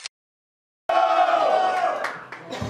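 After a brief silence, a crowd at a Brazilian battle rap event in Londrina erupts in loud cheering, shouting and whooping for a contestant, sustained and dense.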